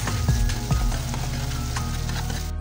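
Crabs frying with chili in a pan, a loud, steady sizzle close up with a few stirring knocks early on, continuous and with no talking.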